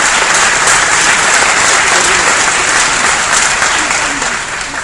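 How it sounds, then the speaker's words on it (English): A large conference audience at a Google Developer Day in São Paulo breaks into loud, dense, sustained applause that fills the whole stretch and eases off slightly toward the end. "I want you guys to give yourselves another round of applause."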